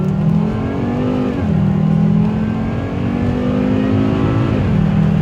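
A Volvo S60R accelerates hard on a 55 mph road. The engine roars loudly and close, rising in pitch through the gears, with brief dips at the shifts before it climbs again.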